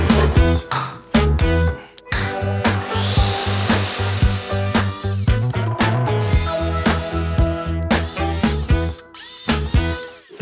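A hand saw cuts through glued wood on a farm, giving a steady run of rasping back-and-forth strokes, loud and close, with brief pauses between bursts.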